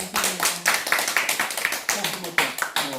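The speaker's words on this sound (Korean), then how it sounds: "박수." A small group claps in a quick, steady rhythm for a few seconds, close by and fairly loud.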